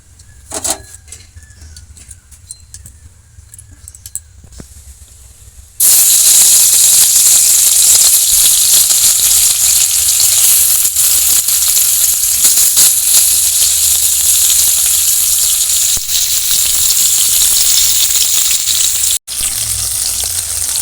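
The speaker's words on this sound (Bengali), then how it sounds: "মাছগুলো ভালো করে ভেজে নেব" Rohu fish frying in hot oil in a wok on a gas stove, a loud, steady, dense sizzle that jumps in abruptly after a quieter stretch and continues nearly unbroken, with a brief dropout near the end.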